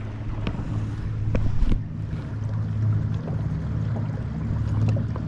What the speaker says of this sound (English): Dual trolling motor action right there.